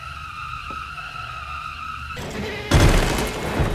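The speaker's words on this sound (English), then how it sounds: "Toy car, pull its thing." A pulled-back toy car in a horror video game whirs off, a steady mechanical tone giving way to a rough rolling rush and then a loud burst of noise near the end.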